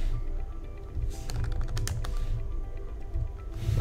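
Typing on a computer keyboard, a brisk run of close, crisp key clicks clustered in the middle with quieter taps around it, over a low background hum and no talk.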